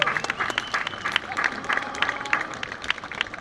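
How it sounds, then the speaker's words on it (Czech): An audience applauds at a hunting-horn players' contest in Pelhřimov, a steady patter of many hands clapping together, fairly close and continuous, with a voice faintly underneath. "Tak tleskejte"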